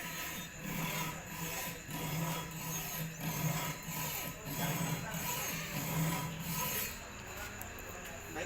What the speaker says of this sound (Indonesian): Sekarang kita akan kembali ke cara menggunakan gergaji.